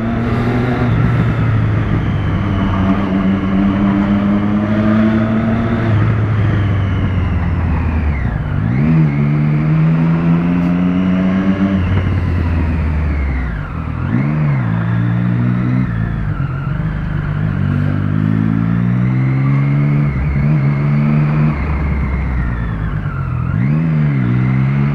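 A motorcycle revved hard while fitted with a broken license-plate bracket, loud repeated throttle blips rising and falling in pitch over a steady idle rumble, close up and alone.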